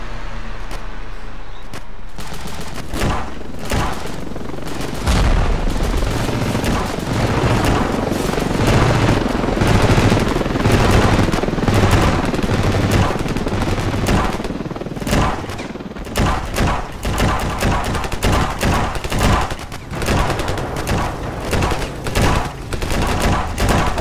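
Dense, rapid gunfire and explosive booms from a RavenField battle, loud and continuous with overlapping bursts and occasional helicopter-like rumble, with no voice over the shooting.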